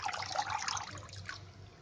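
Water drains off thinly sliced, softened boiled potatoes for a quick dry potato vegetable dish, a short close trickle and splash that stays steady before fading slightly.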